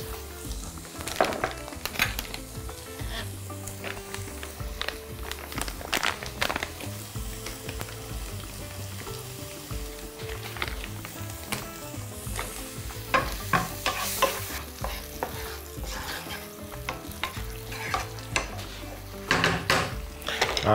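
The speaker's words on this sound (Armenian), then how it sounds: "սոխը տապակում եմ սնկի համար" Food sizzles and fries steadily in a pan, with frequent scraping and stirring clatter from a utensil, close and moderately quiet.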